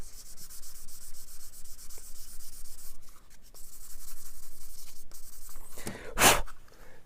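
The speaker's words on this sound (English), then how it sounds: "So just sand it smooth." Steady hand-sanding of a plastic model kit part, the Command Module of a 22-inch Space 1999 Eagle Transporter, a close, continuous gritty rubbing with brief pauses and one louder scrape near the end, no talking.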